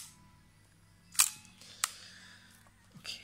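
Mechanical shutter of a film camera firing on bulb setting: two sharp clicks about half a second apart, then a softer click later, close and isolated in a quiet room.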